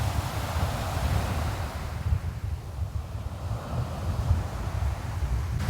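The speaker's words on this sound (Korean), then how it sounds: "바닷바람이 진짜 엄청 시원하네요" Strong wind buffets the microphone over steady crashing surf on a winter beach by the sea, a loud continuous roar of waves and gusts with no talking.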